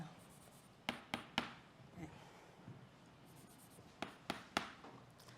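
Chalk or marker strikes a board during a mathematics lecture, a handful of sharp taps and short strokes clustered in two bursts with quiet room tone between, fairly close and with no talking.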